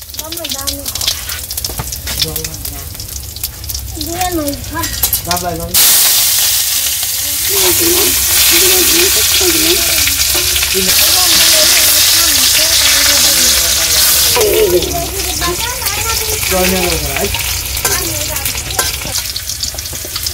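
Meat drops into hot oil in a Bangladeshi village kitchen and erupts into a loud, steady sizzle with stirring crackles, while someone talks over it in the background.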